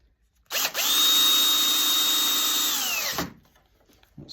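A power drill drives screws into an action figure display case, one continuous whirring run of about two and a half seconds that winds down at the end, loud and close with no talking.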